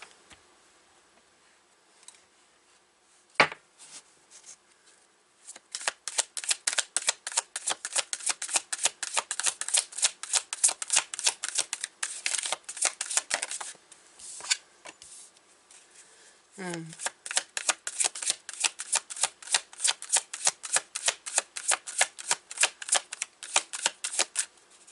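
Tarot cards being shuffled close up, long runs of rapid crisp riffling clicks in repeated bursts with short pauses between, and a brief voice partway through.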